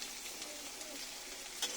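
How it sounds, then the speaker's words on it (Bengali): Masala spices sizzling in a hot pan while being stir-fried, a steady close crackle of frying with occasional brief spatters, no voices. "এবার মশলাটাকে সুন্দরভাবে কষায় নেব, সুন্দরভাবেই করে নেব মশলাটাকে"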